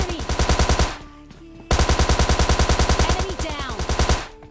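Rapid automatic gunfire in a video game plays in two long sustained bursts separated by a brief gap, loud and close, with faint game sounds underneath.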